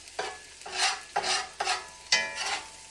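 Onions caramelize in a pan while being stirred, giving rhythmic scraping strokes about every half second over a steady sizzle, close and fairly loud.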